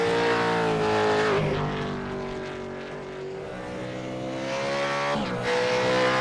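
V8 Supercar engine in a racing simulator at Circuit de Barcelona-Catalunya, a loud, continuous high-revving roar that rises and falls through gear changes, with several shifts and brief dips as the car brakes and accelerates.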